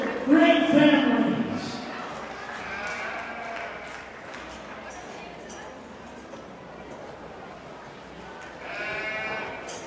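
Goats bleat at a junior market goat livestock show, a loud close bleat at the start and another toward the end over steady arena crowd noise and background voices.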